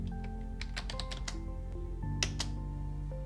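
Fingers type on a computer keyboard nearby, a quick irregular run of crisp key clicks with short pauses, over a steady low hum.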